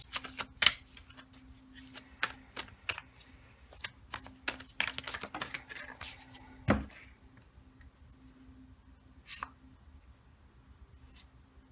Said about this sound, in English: Let me just reshuffle it.